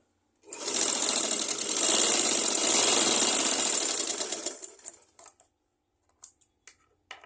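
Sewing machine stitching a blouse bodice, a close, loud whirring run of about four seconds that tapers off, followed by a few faint clicks.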